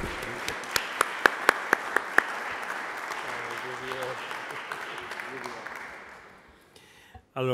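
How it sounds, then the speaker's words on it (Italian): A conference audience applauds steadily, with a few sharp individual claps standing out early on, then the clapping fades away toward the end. "facciamo un applauso, facciamo un applauso a Don Massimo."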